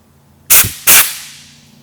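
Two loud bursts of compressed shop air strike the back of a repaired wheel, close and forceful, each a harsh hiss lasting a fraction of a second and then tailing off into quiet.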